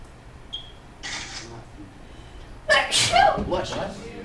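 A sneeze bursts out in a classroom, sharp and fairly close, with a second louder noisy burst following, set against a lesson and low room murmur.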